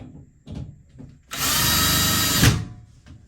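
A power drill runs in one steady burst of about a second, tightening a screw while a closet system is installed, preceded by a few faint knocks and handling sounds.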